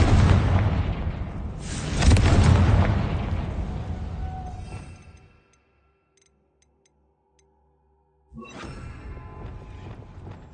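Confringo fire spell in the video game Hogwarts Legacy: a loud, roaring explosive blast with a sustained rumbling tail that dies into near silence, then a second burst of fiery noise returns.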